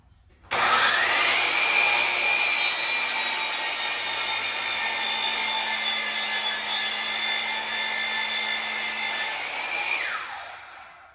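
A power saw cuts 8-foot boards for a heavy-duty workbench build, one loud, steady whine lasting about ten seconds before winding down, close by with no talk.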